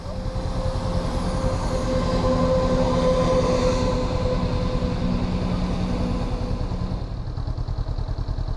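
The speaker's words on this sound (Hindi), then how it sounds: "Train crossing. ये ट्रेन गुजर रही है" A train rolls steadily past a railway level crossing in the UK, its loud, continuous rumble and rhythmic wheel clatter carrying a sustained tonal hum before easing off near the end.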